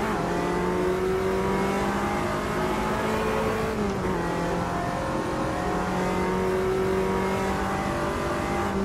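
A race car engine roars on the Nordschleife in the Automobilista 2 racing game, a loud, continuous, close drone with a brief dip in pitch midway as the revs shift.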